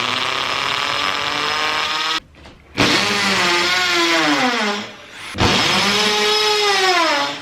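A power drill bores holes into a wooden bed frame, its motor whining steadily and loudly with pitch sweeps as it bites, broken by two short pauses before starting again.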